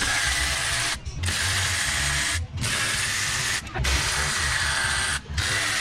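A ratchet removing the intake manifold from a Honda engine: rapid, loud, continuous pawl clicking in close bursts, broken by four brief pauses as the handle is reset.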